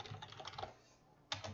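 Quick bursts of keystrokes tap on a computer keyboard, a short close run of clicks, then a brief pause before a few more keys are struck; quiet and without talk.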